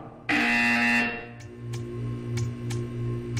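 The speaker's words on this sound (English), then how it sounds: "You will hear a buzzer." A loud, harsh electronic buzzer in the Portal 2 video game sounds once for under a second, then cuts off, leaving a low hum and a few faint clicks.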